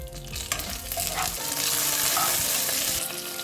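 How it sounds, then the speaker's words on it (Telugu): Tamarind, curry leaves and fenugreek seeds fry in a pan for coconut chutney tempering, giving a continuous close sizzle with soft stirring and a faint hum of music behind it, no talk. "దీన్ని సన్నసగం పెట్టి చింతపండు, కరివేపాకు, తర్వాత మెంతులు వేసుకుని ఒక 10 సెకండ్స్ వేయించి"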